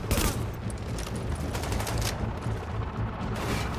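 Sustained gunfire in The Division, a dense, loud fusillade of rapid automatic shots and overlapping bursts with mechanical clatter, continuous from start to finish.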